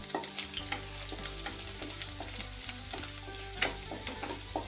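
Chopped garlic frying in a spoonful of hot oil in a kadai while cooking Chicken 65: a steady, close sizzle with scattered crackles and light stirring clicks throughout, no talking.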